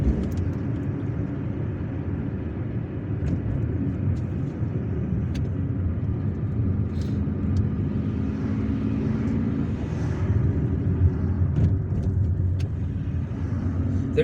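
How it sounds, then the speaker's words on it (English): Steady street traffic heard from inside a car driving through Algiers on an ordinary weekday, a continuous low engine and road rumble with passing vehicles, loud and unbroken throughout. "Traffic is almost permanent here on ordinary, normal weekdays."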